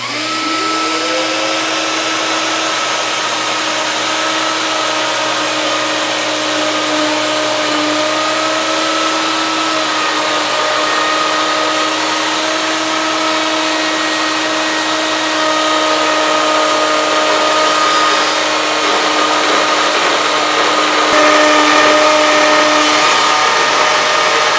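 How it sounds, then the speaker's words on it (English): A power saw cutting a 3/4-inch dado in maple for a bookshelf, a loud steady whine that holds throughout with a constant motor drone, close up and alone. "So I've set up for the next dado. I'm ready to cut."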